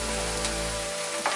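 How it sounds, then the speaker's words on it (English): Curry leaves crackle in hot oil with brown sugar, a steady close sizzle that fades near the end. "and then I just throw in the curry leaves. Okay, fry it off."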